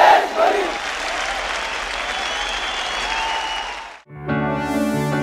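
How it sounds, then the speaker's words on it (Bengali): Loud, dense applause from an audience at a May Day workplace prize-giving ceremony, hands clapping steadily for about four seconds before cutting to music. "জোরে হাততালি হবে।"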